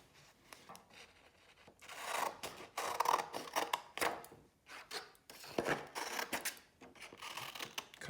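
Scissors snip through paper while a long rectangle is cut and fringed with slits for a tube monster craft, a close run of irregular crisp cuts and rustles with no talking.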